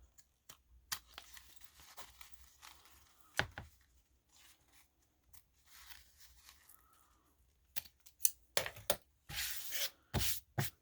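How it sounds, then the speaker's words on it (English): Scissors snip through the fabric-covered ends of zippers on a sewing project, giving a handful of sharp, close cuts that come sparse at first and then in a quicker cluster near the end, with no talking. "We're going to cut the ends of the zippers off because we won't need those anymore."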